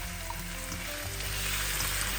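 Chopped tomatoes hit a pan of translucent frying onions for a Goan prawn curry, giving a steady close sizzle and crackle that holds evenly throughout with no talking.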